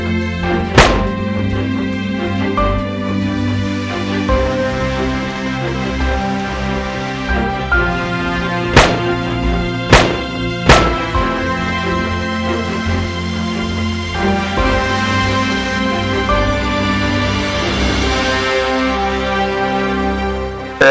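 Cartoon gunfire during an attack: a handful of sharp, isolated bangs spaced irregularly over a steady music bed.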